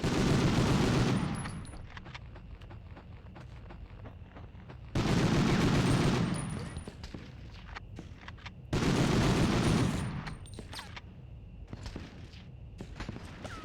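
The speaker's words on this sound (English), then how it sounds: "who the fuck is shooting at me?" Gunfire in Medal of Honor (1999) comes in three loud bursts of rapid shots, separated by quieter stretches with scattered single shots and footsteps.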